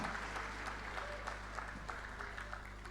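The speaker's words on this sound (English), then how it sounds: "There's a round of applause for Ghana" Audience applause for Ghana at an eco hero dinner and award night, a steady wash of clapping over a low hum of the venue's sound system.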